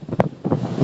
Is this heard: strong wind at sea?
yes